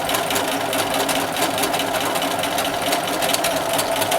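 A sewing machine runs steadily while stitching fabric for a roll kit, a continuous close mechanical whir with fast rhythmic needle chatter and no pauses.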